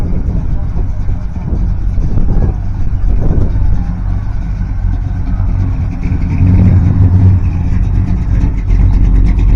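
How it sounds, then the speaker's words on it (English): Cars rolling into an outdoor car show and fair, a steady engine rumble with one vehicle revving louder partway through, mixed with crowd and outdoor background noise. "We got some good looking cars coming through."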